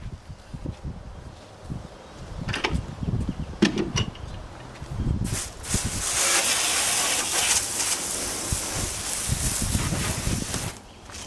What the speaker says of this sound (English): So what I'll do is I'll just go ahead and start rinsing it off.